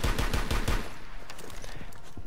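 A shotgun in the Rainbow Six Siege video game fires a quick string of booming blasts over about a second, then quieter game ambience follows, with no voice.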